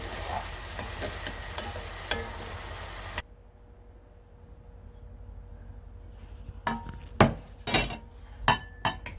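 Stir-fried zucchini topped with sesame seeds sizzles loudly in a pan at first, then a utensil clanks against the pan and dish in a few sharp, separate knocks.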